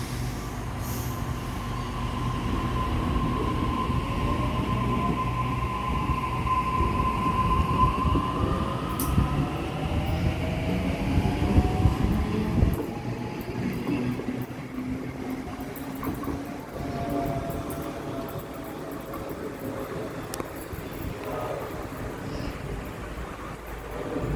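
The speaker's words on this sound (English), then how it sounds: "Departing platform 1, Central bound Waratah, A14." A Sydney Waratah A14 electric train pulls away from platform 1 at Normanhurst, heading toward Central, with a steady motor whine rising in pitch over a continuous rumble, loud and close throughout.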